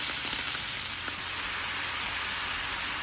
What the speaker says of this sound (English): Let the meat brown for a while. Cut up some garlic, onion, and peppers. Add it to the pot. Brown that up a little bit.